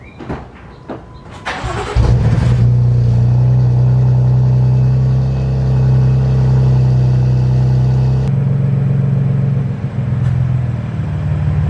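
A car engine cranks and catches after a few clunks, then settles into a loud, deep rumbling idle with a brief rev toward the end.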